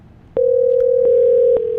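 Softphone test call on a Zycoo phone system producing a steady, loud electronic tone that starts abruptly and holds continuously, with a few faint clicks.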